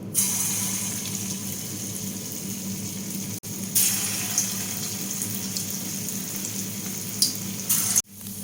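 Bottle gourd koftas deep frying in hot oil, a steady broadband hiss and crackle that runs throughout, with brief dips where the pieces are dropped in or moved.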